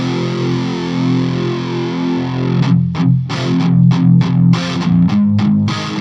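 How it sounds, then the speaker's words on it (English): A sustained, heavily distorted guitar chord shimmers with a wavering, swirling chorus modulation, followed by rhythmic chopped strums that keep the warbling texture. "It has like a chorus mode, which, let me engage it. It sounds like this."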